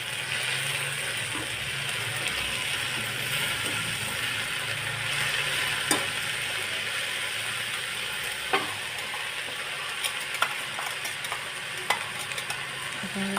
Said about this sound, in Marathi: 2 मिनटं भाजी परतून घेऊया.